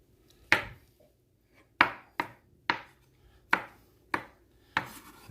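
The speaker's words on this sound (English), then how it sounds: "Just rough chop them up." Knife chopping hard-boiled eggs roughly on a cutting board for a side dish, seven sharp, evenly spaced thuds close up with quiet gaps between, no talking.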